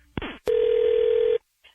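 A telephone call: a brief burst of keypad dialing, then one steady, loud ringback tone that holds for about a second and stops, with no talking.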